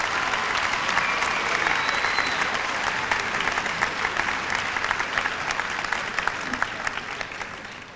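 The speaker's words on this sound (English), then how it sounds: "Give yourselves a round of applause" An audience at a 1993 high school senior academic recognition ceremony claps for the class, a broad, continuous patter of many hands at moderate distance, steady throughout and easing slightly toward the close.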